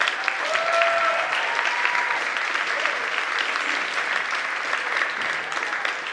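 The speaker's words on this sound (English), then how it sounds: "How about a round of applause for that?" Audience applause at a high school academic and fine arts awards ceremony, held steady and full for about six seconds as a broad wash of many hands clapping together, with no voice rising above it.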